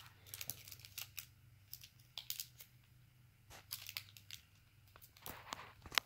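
Repeated sharp scissor snips and crinkling of trading card packaging, close and quiet, in irregular bursts over a low background hum.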